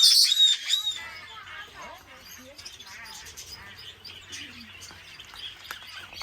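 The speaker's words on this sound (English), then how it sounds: "Undulater og zebrafinker." Budgerigars and zebra finches in a large aviary chirp and tweet continuously, a dense chorus of overlapping calls with a loud burst at the start that settles into steady busy chatter.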